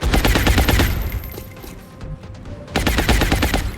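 A gunner lays down suppressing fire in the video game XCOM Long War, two loud rapid bursts of automatic gunfire separated by a quieter lull with a faint tone.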